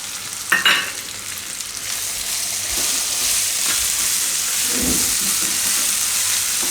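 Tomatoes fry in a pan for Gujarati kela pava with a steady, close hissing sizzle. A clattering stir rises briefly near the start, and the sizzle then carries on alone.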